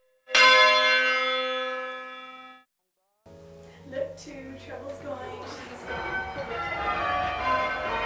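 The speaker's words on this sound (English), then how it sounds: "This stores energy in the bells, which can be converted to sound." Church bells are heard up close: one bell strike rings out and decays over a couple of seconds, then after a pause several bells ring in overlapping sequence, with a voice talking over them.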